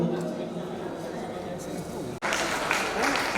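Applause from an audience at a Hindi book-release ceremony for Jan Ramayan, steady clapping mixed with crowd voices and talk, briefly cut off, then resuming somewhat louder.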